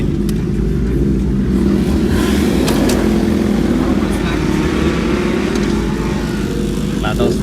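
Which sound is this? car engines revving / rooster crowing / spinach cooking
car engines revving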